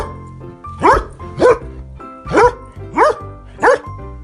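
A dog lets out five loud, close barks at an even rhythm, each a quick rising-and-falling woof, over light background music.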